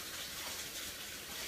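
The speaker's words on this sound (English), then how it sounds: "I'm gonna rinse off my hands here." Tap water runs steadily over hands being rinsed at a kitchen sink, a soft even hiss and splash throughout, quiet and unbroken.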